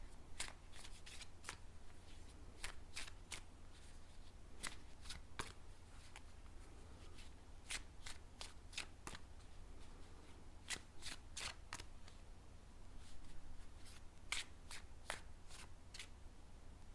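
Tarot cards are shuffled by hand in quick, crisp riffling bursts separated by short pauses, quiet and close-up, with soft handling rustles between the bursts and no talking.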